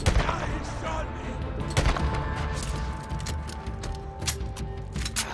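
Gunfire in the video game Days Gone, a dense stretch of sharp gunshots and mechanical clatter with bursts of rapid fire over a loud, busy game soundscape.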